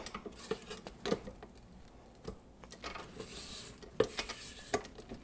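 A spatula scrapes creamed butter and sugar down the sides of a stand mixer bowl for a Linzer torte, giving quiet, intermittent scrapes and clinks with pauses between.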